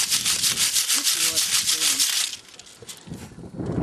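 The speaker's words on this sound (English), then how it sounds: "Don't throw any dirt out. Work it through your sieve." Dirt and sand being worked through a hand sieve while gem fossicking outdoors, a steady rhythmic scraping and rubbing shake that stops partway, then softer rustling, with faint voices nearby.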